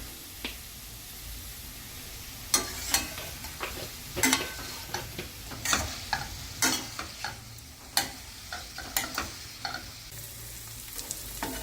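A spoon tosses paneer cubes in a hot pan with salt, chili powder, pepper and oregano, making irregular clicking taps and light sizzling scrapes over a soft frying hiss, close and moderately quiet, with no talk.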